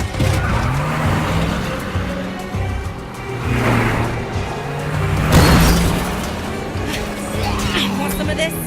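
Truck engine from the State of Decay 2 video game rumbling and pulling away during an army evacuation, a sustained low drone with shifting pitch and a few booming thuds, mixed with game sound effects.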